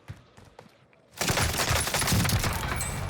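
Sustained burst of gunfire in Call of Duty on Rebirth Island, starting abruptly after a quiet lead-in and continuing loud and dense, with rapid overlapping shots and no talk.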